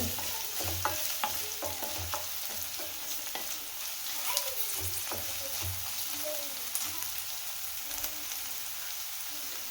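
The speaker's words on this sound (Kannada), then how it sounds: "ಈಗ ವೆಜಿಟೇಬಲ್ಸ್ ಎಲ್ಲ ಆಲ್ಮೋಸ್ಟ್ ಒಂದು ಏಯ್ಟಿ ಪರ್ಸೆಂಟ್ ಕುಕ್ ಆಗಿದೆ ಇದನ್ನೆಲ್ಲ ಸ್ವಲ್ಪ ಮೀಡಿಯಂ ಫ್ಲೈಮು ಅಥವಾ ಐ ಫ್ಲೈಮಲ್ಲೇ ಮಾಡ್ಕೋಬೇಕು" Vegetables for veg hakka noodles being stir-fried in a pan over medium-high flame, a steady close sizzle with repeated scraping stirs of the spatula throughout.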